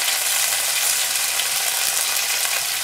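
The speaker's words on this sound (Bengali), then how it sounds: "এর মধ্যে দিয়ে দেবো গোটা গরম মশলা, তেজপাতা আর গোলমরিচ ফোড়ন" Whole garam masala, bay leaf and peppercorns crackle in hot oil for a pahari chicken curry, a loud, steady, dense sizzle that holds evenly from start to finish with no talking.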